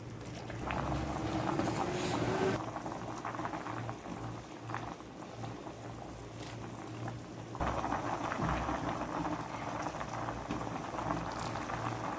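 Water boiling in a pot with 500 grams of pasta, a steady, close bubbling hiss and rumble that surges louder at moments and continues without talking.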